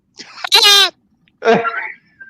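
A man imitates a sheep with a voice, giving two short nasal bleats, the first higher and strained, the second lower and wavering, close to the microphone with silence between.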